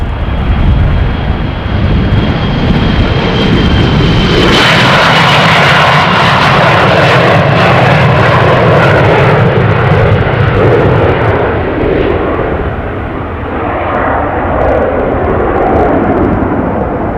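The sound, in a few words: airplane steep takeoff at Amsterdam Schiphol runway 36L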